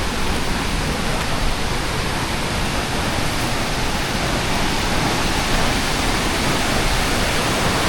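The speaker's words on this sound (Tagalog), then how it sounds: "Yan na yung falls mga guys." A waterfall in Naujan, Oriental Mindoro roars as a steady, dense rush of falling water, loud and close, unbroken, with no voices.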